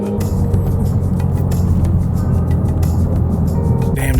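A 2020+ Toyota MK5 Supra with a B58 engine, HKS blow-off valve, turbo and exhaust, sends loud, close exhaust burbles: a deep rumble dotted with a rapid string of crackling pops.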